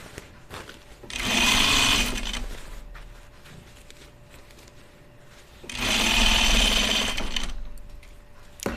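A sewing machine stitching a jeans prototype runs in two loud, fast, whirring bursts of about a second and a half each, separated by quiet pauses with faint handling sounds.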